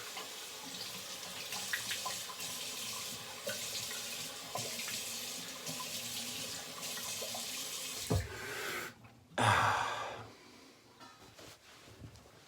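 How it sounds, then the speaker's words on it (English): Cold water running from a sink tap and splashing as a face is rinsed, steady close flow for about eight seconds, then a brief pause and a louder splashing burst before it fades. "I'm gonna rinse on camera and rinse cold down here."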